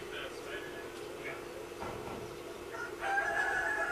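A rooster crows in a village in Nepal, heard at a moderate distance over a steady outdoor background hum, with a further call rising near the end.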